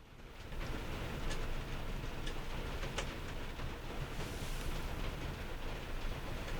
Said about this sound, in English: I just left the mic recording and took some rain just from hitting the iron